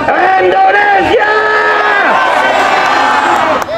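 A large crowd at a political rally in Indonesia shouts and cheers continuously and loudly, with many overlapping raised voices chanting together as one massed roar, close and sustained throughout.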